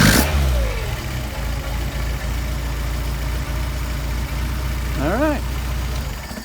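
A Mercedes 190SL engine on Solex carburetors idles steadily with a low, even throb, close by, as someone speaks briefly and a short chirp sounds near the end.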